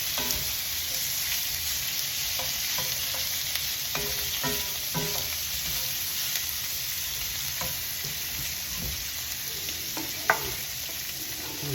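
Pieces of cow tongue brown in a hot pan, giving a loud, constant frying hiss with occasional scraping stirs and one sharp clack near the end.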